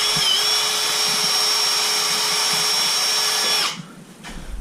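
A power drill runs loud and steady for nearly four seconds, driving a screw into a board on a custom workbench, then cuts off abruptly, leaving quiet room tone.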